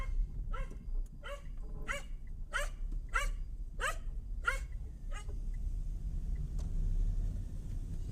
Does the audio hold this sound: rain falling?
no